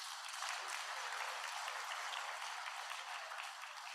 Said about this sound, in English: Let us appreciate them with a sounding round of applause.